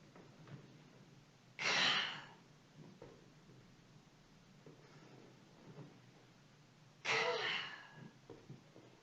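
Two forceful, breathy exhales burst out during a respiratory breathing exercise, each lasting under a second and spaced several seconds apart over a quiet room background.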